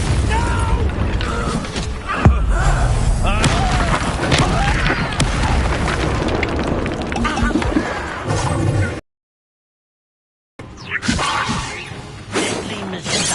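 Incendio fire spell cast in a Hogwarts Legacy duel, a dense burst of whooshing flames, impacts and crackling battle effects that runs loud and continuous, drops to silence for a moment, then resumes.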